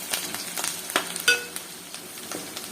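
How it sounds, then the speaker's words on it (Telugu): Onions, chillies and curry leaves fry in hot tempering oil for egg curry, a close, steady sizzle broken by crackling pops and scraping stirs, with no voices. "తిరగమాతలోనే బాగా ఎర్రగా వచ్చేంత వరకు వేసుకున్నాం"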